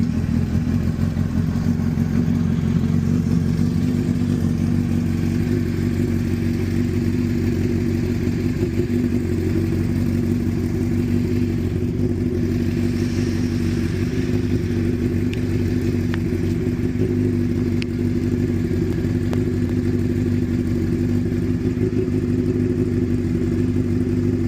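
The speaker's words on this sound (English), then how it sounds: "Turn on real quick and then you can grab the cash." A crashed Honda CBR1000RR sportbike idles steadily nearby, a loud, continuous, slightly uneven engine drone with a constant mechanical clatter throughout and no talking.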